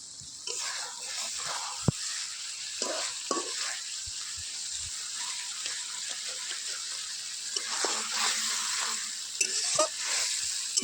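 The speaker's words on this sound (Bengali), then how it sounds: "নেড়ে চেড়ে নিচ্ছি।" Masala frying in oil in a pan and being stirred, a soft sizzle broken by scraping stirs and occasional clinks of the spoon against the pan, with no speech.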